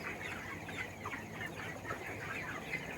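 Broiler chickens about 25 days old on a contract poultry farm in hot midday weather cluck and murmur continuously, a dense overlapping flock chorus at moderate distance with no talk.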